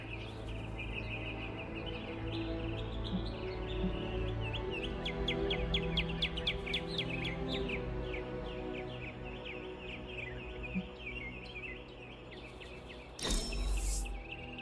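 Bird chirping in Marvel's Midnight Suns, a series of bright, quick tweets and trills repeating over an ambient outdoor bed, ending with a short loud burst.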